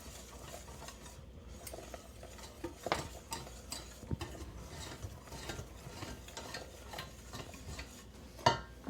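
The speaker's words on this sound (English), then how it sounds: "And stir that in." A spoon scraping and stirring a thick almond roca toffee mixture in a pot, irregular soft scrapes and occasional sharper clinks of utensil against metal, close and quiet.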